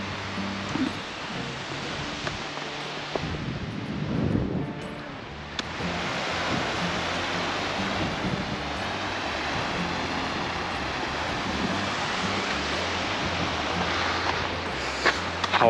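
Strong, cold wind on a snowy mountain trail near Kasol rushes against the microphone in a continuous roaring hiss, with a brief lull and rumbling gusts early on before settling into steady blowing.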